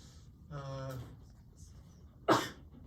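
A sharp single sneeze bursts out, preceded by a brief voiced sound; a quiet room otherwise.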